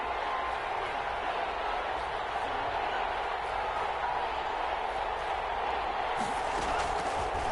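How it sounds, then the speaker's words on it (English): An NFL stadium crowd at a Rams vs Chargers football game builds ahead of a big third down, a continuous dense roar that holds steady throughout. "The crowd getting into it as we come up on a big 3rd down."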